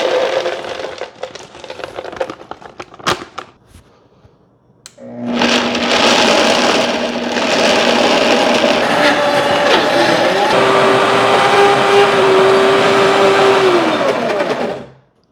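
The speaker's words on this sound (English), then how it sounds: "Going to try something that could be kind of hard for a lot of blenders," An Odiforgo blender grinds almonds into almond butter, starting with a few scattered clattering bursts and a short pause, then running loud and steady for about ten seconds with a sustained motor whine that shifts pitch midway before stopping.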